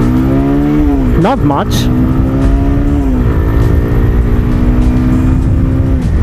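A Bajaj Pulsar 150 motorcycle with about 90,000 km on it revs hard past 6,000 RPM while riding, its loud, steady engine drone rising and dipping through gear changes, with brief rider speech over it.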